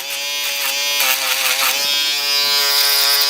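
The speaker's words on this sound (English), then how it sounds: "I'm gonna use a third of the foil shaver when I'm going around that circle." Electric foil shaver buzzing steadily and close during a drop fade haircut, a loud continuous whir with slight shifts as the blade moves around the head, no talk.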